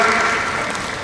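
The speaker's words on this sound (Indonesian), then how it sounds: "tepuk tangan buat Kemendikbud" An audience claps at a university launch ceremony in NTT for a medical specialist programme, a brief, loud, even burst of applause.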